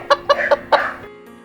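Chickens cluck close by, four or five quick clucks in a short run, alone and fairly loud.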